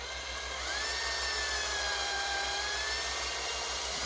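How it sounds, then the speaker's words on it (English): A power drill driving a screw whines steadily at close range on a Losi 22S drag RC car front end, its motor pitch holding fairly constant with a slight rise partway through, with no talking. "Finishing off with the drill, speed things up."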